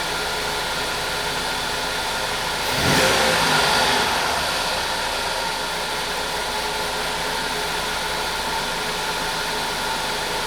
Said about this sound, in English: Tanner, step on the gas.